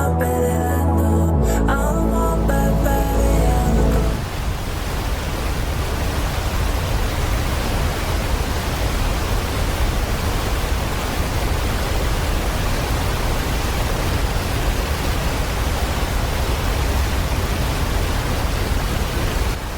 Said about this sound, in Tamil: இப்போ அருவி ஓசை கேட்க ஆரம்பிச்சிடுச்சு.